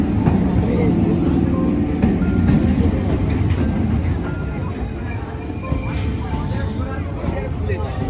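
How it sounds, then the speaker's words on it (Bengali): A train rumbles loudly and steadily as it rolls into a station, with a brief high metallic wheel squeal partway through. "ট্রেন আসছে"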